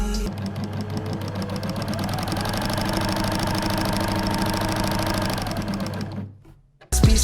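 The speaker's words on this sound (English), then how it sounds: "Then I sewed the beautiful pleats from the bottom of the shirt to the top" A sewing machine runs close and steady as pleats are stitched along a shirt, its rapid mechanical chatter holding for several seconds before slowing and stopping, followed by a short clunk.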